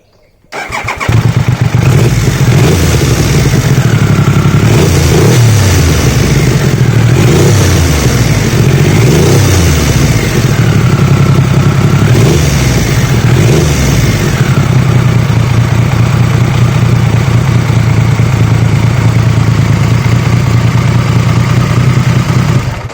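A Triumph Sprint 900 motorcycle cranks and fires up, then revs hard again and again, its loud engine rising and falling in repeated surges before settling into a high, sustained roar, with nobody talking.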